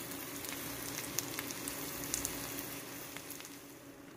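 Oyster pancakes coated in frying mix and egg, topped with red chili, sizzle steadily in a pan over medium-low heat, a continuous close hiss dotted with small crackling pops and no voices.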